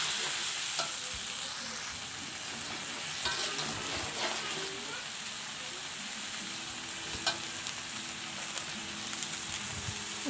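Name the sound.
stir frying sambal ingredients in hot oil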